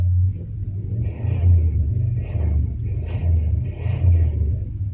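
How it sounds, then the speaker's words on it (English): A neighbor's truck engine revs nearby, deep rumbling surges rising and falling in several repeated pulses of throttle over a low idle, loud and continuous without any talk. "it's perfect time to film a video when neighbor's revving his truck up"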